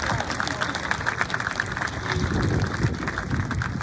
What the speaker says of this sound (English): So ladies and gentlemen, one more round of applause.